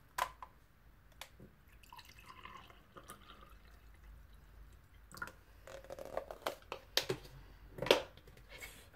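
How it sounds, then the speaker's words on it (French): Clear water poured into a glass until it is half full, quiet at first, then a run of close drips, splashes and light clinks toward the end, with no speech. "utiliser de l'eau cristalline. Vous allez remplir la moitié du verre."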